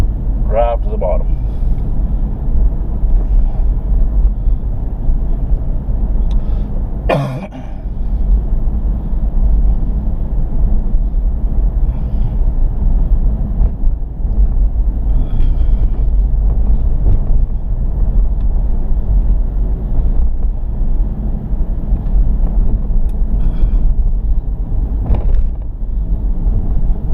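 A car drives down a steep road on the way to work, a steady low engine rumble and road roar with wind buffeting the microphone throughout, plus a few brief knocks and clicks.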